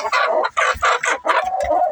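Hens in a chicken coop settling in for the night cluck and squawk loudly and close by, in a busy stream of overlapping calls with brief pauses.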